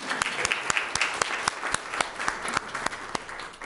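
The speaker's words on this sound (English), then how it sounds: "One more round of applause." Audience at an education advisory board meeting applauding, a dense round of steady clapping from many hands in a room that holds evenly through the whole stretch.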